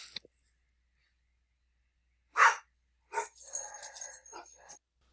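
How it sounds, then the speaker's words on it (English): Dogs in a home bark at someone arriving: one sharp burst, then after a pause a longer ragged volley of barks, moderately close and loud against a quiet background with no talk. "Dogs are going nuts."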